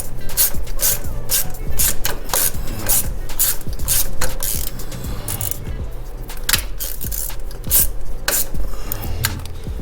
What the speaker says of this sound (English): Pull our 4 bolts in the front.